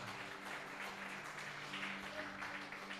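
A church congregation applauds to glorify the Lord, faint, steady clapping spread across the room with a low, sustained hum beneath it.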